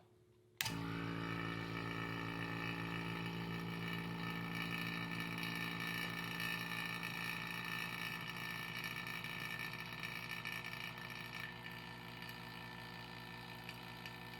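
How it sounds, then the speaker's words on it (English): A vacuum pump runs on a Corvette ZR1 LS9 cylinder head during a valve job vacuum check, starting abruptly and then holding a steady, loud mechanical drone with a tonal hum that continues unbroken to the end. "We're going to turn the pump on"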